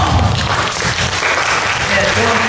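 A church congregation applauds together during a Sunday worship service, a steady broadband clapping that fills the room from start to finish, with a voice murmuring faintly beneath it.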